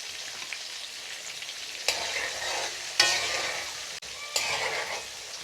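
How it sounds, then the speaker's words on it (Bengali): Potatoes frying in a pan with turmeric and salt: a loud close sizzle that swells with each of several stirring movements, with a brief sharp click partway through. "আলুটা আমার ভাজা হয়ে গেছে।"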